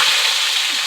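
Chopped onion frying in hot oil with fragrant garam masala gives a steady, close, dense sizzle with no talking, over in under a second.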